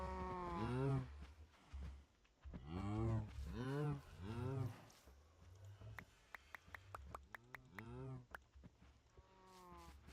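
Cows low repeatedly in the block-building game Minecraft, several drawn-out moos in quick succession, some overlapping, followed by rapid clicking sounds near the end.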